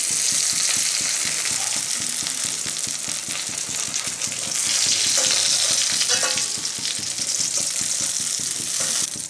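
Eggplant pieces frying in hot oil give a steady, loud, close sizzle with light scraping and stirring clicks throughout, and no one speaks.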